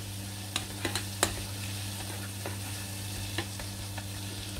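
Garlic stirred into gently melting butter in a frying pan, a soft low sizzle with a few quick clinks and scrapes of the utensil against the pan, close up and quiet.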